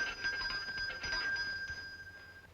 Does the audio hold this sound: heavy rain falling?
no